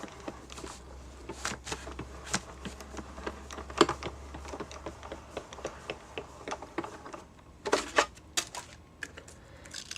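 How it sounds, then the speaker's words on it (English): Paper and a die run through a die cutting machine, producing scattered clicks, taps and a low mechanical rumble with a few louder knocks, close and fairly quiet, with no talking. "run that through my die cutting machine"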